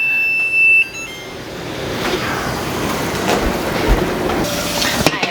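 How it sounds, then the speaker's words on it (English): A timer alarm sounds loudly and steadily for under a second at the start, then cuts off and leaves a broad, noisy background. "And there goes our timer."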